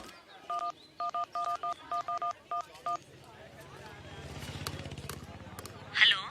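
A quick run of touch-tone beeps as a phone number is dialed, about a dozen short tones in uneven groups, followed by faint ringing and rustling.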